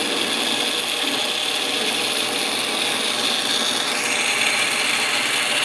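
Rotary milling with a standard half-inch cutter on an old piece of scrap: a steady, loud grinding and rasping cut that runs continuously without pause.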